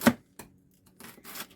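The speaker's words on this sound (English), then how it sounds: "And you just chop up and chop and get all of your greens chopped to small, manageable pieces." A knife chops collard greens on a board: a few sharp, distinct cuts spaced apart, close and clear, with quiet gaps between strokes.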